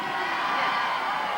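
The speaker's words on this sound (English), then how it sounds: "the French supporters cheering their side on" French rugby supporters in a stadium during a France versus England match produce a sustained roar of cheering and whooping, a dense crowd sound without clear individual voices.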